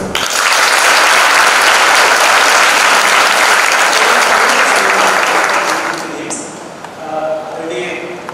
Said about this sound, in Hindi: आपके लिए तालियां तीनों लोगों के लिए